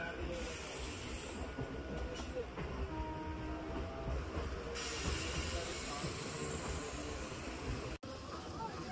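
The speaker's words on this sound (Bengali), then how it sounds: "পাশ দিয়ে দেখছি একটা সেই এসি ট্রেন যাচ্ছে, নতুন যে এসি ট্রেন" A train runs on rails with a steady rumbling roar and hiss, while a new air-conditioned train passes alongside; a voice speaks over the noise.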